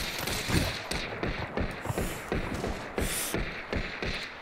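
Rifle volleys crack out in a video game battle, a rapid series of loud Martini-Henry shots and gunfire bursts repeating roughly every half second, with no voices over them.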